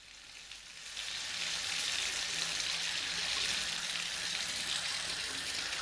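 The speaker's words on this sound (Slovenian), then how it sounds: "Utaknite glavi v kat pod pipo. Jaz pa bom vodo spustil." Water gushing from a tap into a tub, a steady broadband hiss that starts abruptly after a second and runs on evenly, fairly close, in a radio play.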